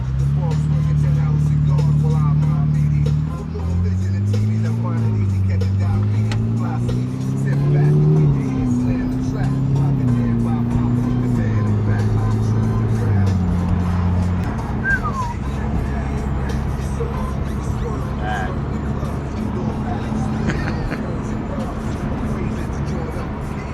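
A Ferrari 488 drives with its engine droning and shifting in pitch as it accelerates through gears, steady and close, with people talking inside the car over the motor.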